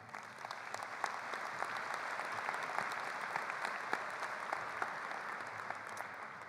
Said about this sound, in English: A round of applause for our NPS staff